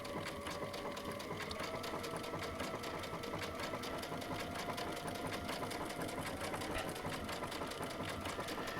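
A Baby Lock sewing machine with a Teflon foot stitches a pleather applique, running in a fast, steady mechanical chatter of even needle strokes, close and continuous throughout.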